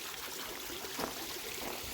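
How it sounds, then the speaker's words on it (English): Water trickles and splashes steadily over an old-style pond waterfall with a slate corner, a constant soft rushing flow with no break and no voices. "That pond overflows, comes through, comes into the waterfall and it feeds that."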